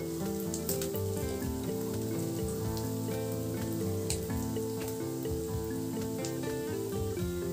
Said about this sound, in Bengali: পেঁয়াজ ভাজতে ভাজতে নরম হয়ে গেছে, কালারটাও চেঞ্জ হয়ে গেছে।